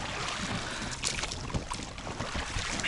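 A motorboat runs on open water, its outboard motor droning steadily beneath wind buffeting and splashing at moderate loudness, with no voices.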